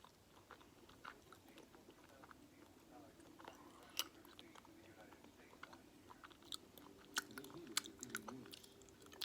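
Someone chews Frozen 2 fruit flavored snacks close up, soft moist chewing and occasional crisp bites repeating irregularly over quiet room noise.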